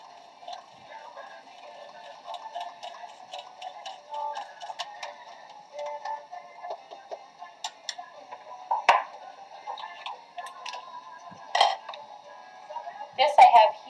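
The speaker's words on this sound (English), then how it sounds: "we are whisking our 2 egg yolks with our evaporated milk" Two egg yolks whisked with evaporated milk in a bowl, producing rapid light metallic ticking and clinking of the whisk against the bowl, steady with a few louder knocks.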